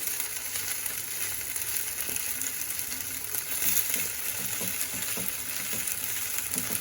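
Sabudana vada fry in oil in a pan, making a steady close hiss and crackle with small bubbling pops and faint knocks as the pieces are turned and pressed.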